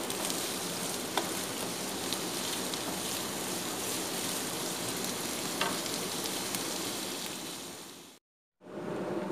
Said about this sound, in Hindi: हमने 3 प्याज काट के रखे थे, इसको हम हल्का सा गोल्डन ब्राउन करेंगे।